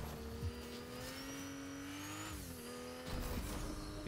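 A car engine in the video game Fortnite drones steadily under acceleration, its pitch rising and dipping as the vehicle drifts, with a heavier rumble near the end, loud and continuous with no talk.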